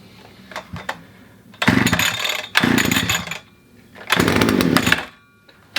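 A two-stroke strimmer engine, pull-started after sitting through winter, catches and revs in three loud roaring bursts, each dropping back to quiet between pulls, with faint clicks and handling noise in the gaps.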